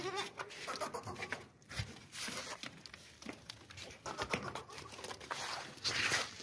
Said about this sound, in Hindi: बहुत ही ज़बरदस्त बकरी है माशाल्लाह से, लंबे कानों वाले बकरे हैं।